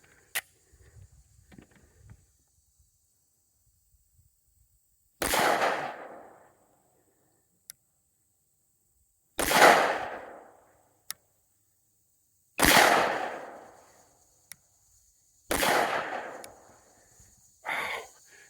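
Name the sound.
Mossberg MC1sc compact 9mm pistol being fired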